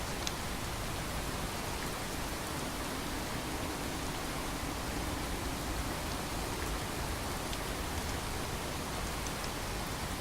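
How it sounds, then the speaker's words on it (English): Heavy driving rain pours down in a Boston video-game setting, a dense, steady, broadband hiss of rainfall with occasional faint drop ticks, no voices over it. "a driving rain is a driving rain"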